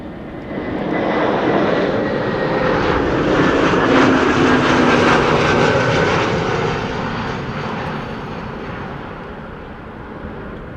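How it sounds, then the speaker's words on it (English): An Airbus A321neo airliner lands at Amsterdam Schiphol Airport in windy conditions, its engines producing a loud, sustained roar that swells and then slowly fades over about ten seconds, heard from outdoors with no talking. "this is ITA Air Airways, flight 108, an A321neo arriving from Rome"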